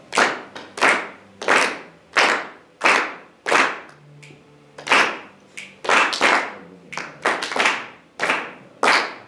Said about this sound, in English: Let's just clap the rhythms together, okay?